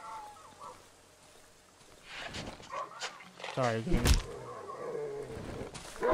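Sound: dogs barking and growling in the video game Darkwood

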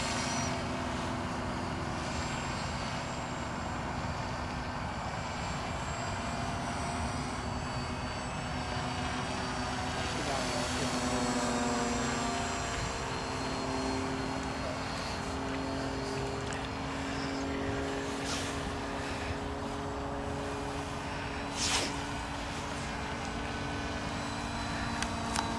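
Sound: Firstar V2 model airplane engine at full throttle

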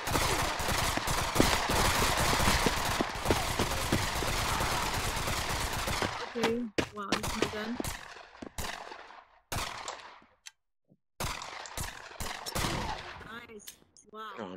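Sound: gunfire in Pavlov VR shooter video game

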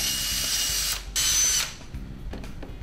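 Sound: power drill drilling mounting holes in a vehicle

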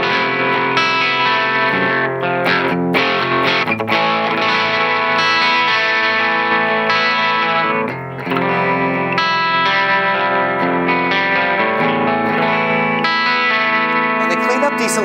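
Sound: electric guitar through amp, EL34 tube voicing

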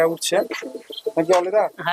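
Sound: Andhra and Giribaj pigeons cooing

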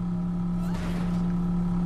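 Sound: vehicle accelerating in the video game Borderlands 3

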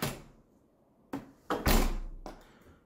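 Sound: door opening and closing with an eufy entry sensor

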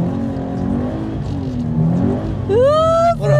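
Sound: car engine revving while drifting around a pylon

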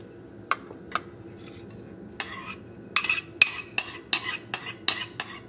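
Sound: adding eggs to banana bread batter in a bowl

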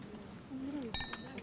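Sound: glasses clinking during a wedding toast

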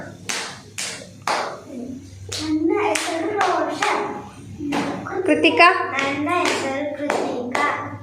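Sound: children clapping hands while saying their names

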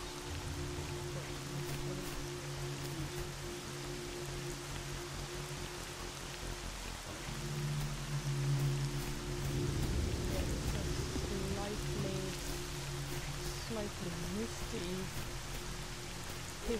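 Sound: heavy rain in a video game

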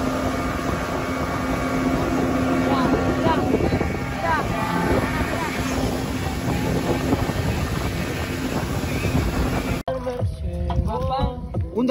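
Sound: motorboat ride at sea

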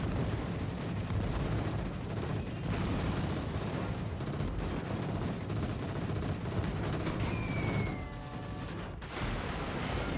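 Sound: anti-aircraft flak fire in World of Warships video game

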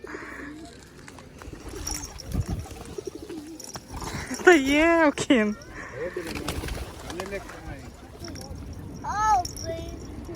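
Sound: pigeons cooing

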